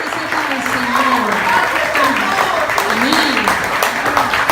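Applause from a church congregation during a rainy Sunday evening service, steady and fairly loud for several seconds, with voices and tonal sounds rising over it.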